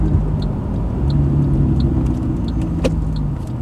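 A low, steady exhaust drone rumbles from inside a moving Suzuki Grand Vitara 2.4L with a custom 2.5-inch stainless steel exhaust, heavy and continuous, with faint ticking overhead.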